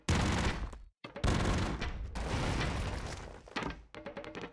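Bro Caesar's gun in the Broforce video game firing, loud sustained bursts of rapid gunfire broken by a brief pause, then another long volley trailing off into scattered shots.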